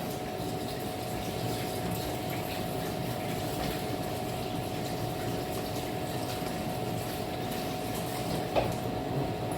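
Water runs steadily from a tap as hands are rinsed in a kitchen while beef stew is being made, a constant close splashing rush with no talking.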